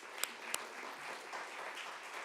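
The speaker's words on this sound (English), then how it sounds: "can we give a round of applause" An audience at a Flagstaff city manager meet-and-greet gives a faint, distant round of applause, soft continuous clapping with a couple of sharper claps near the start.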